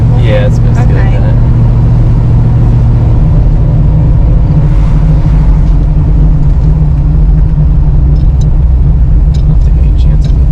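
A freshly rebuilt 1973 Camaro Z28, back on the road after 25 years, drones with a steady loud engine rumble while driving, with people talking over it throughout.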